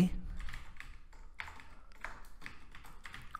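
Keys on a computer keyboard clatter in quick irregular bursts of taps while someone types C++ code, close and moderately loud, with a low hum underneath.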